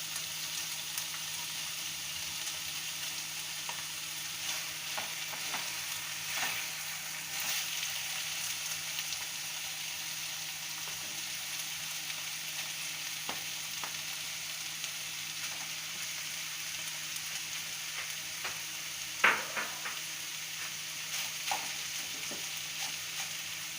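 Boiled rice tipped into a hot pan of capsicum for Mexican rice and stirred, giving a steady close frying sizzle with soft scraping stirs and a sharper clink near the end.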